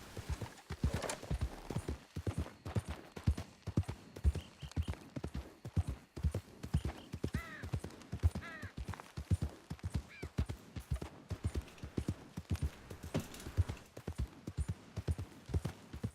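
Steady, rhythmic clip-clop of horse hooves trotting continuously in the video game Red Dead Redemption 2, close and clear, with a faint whinny partway through.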